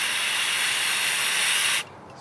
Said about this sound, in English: I'm going to brake clean the crap out of it